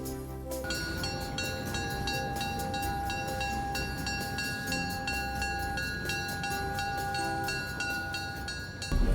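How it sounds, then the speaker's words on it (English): Napa Valley Wine Train running through the valley, a continuous loud rumble and rattle of rolling rail cars with a steady held horn-like tone over it, close by and unbroken. "Welcome aboard for a visit on the Napa Valley Wine Train."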